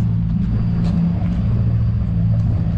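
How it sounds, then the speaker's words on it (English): Steady low engine rumble of a Ferrari sports car idling nearby at a dealership, continuous and fairly loud with faint background activity. "There's a Ferrari."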